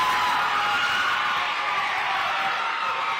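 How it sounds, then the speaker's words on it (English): A stadium crowd at a football game keeps up a steady, broad roar of cheering and whoops, heard from a distance and sustained for the whole stretch without a break. "that's just everyone cheering for"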